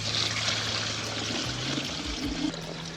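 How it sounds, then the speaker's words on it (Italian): Well water is poured into a bucket for about twenty litres: a steady, close, bubbling stream of liquid running alone, with a low hum beneath it. "Aggiungo circa 20 litri d'acqua"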